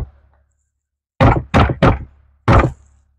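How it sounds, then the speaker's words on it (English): A hand knocks on the passenger-side dashboard of a 2004 BMW 325xi that has a dead blower fan: one soft thump, a pause, then four firm, close knocks, three quick ones and a last after a short gap. "I'm going to go over on the passenger side and tap the dash."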